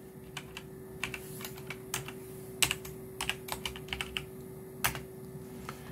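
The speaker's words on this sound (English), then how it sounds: "type in Canon LIDE 210 driver" Fingers type a search for a Canon LIDE 210 scanner driver on a computer keyboard, with irregular light keystrokes tapping close and quietly in quick bursts, no speech.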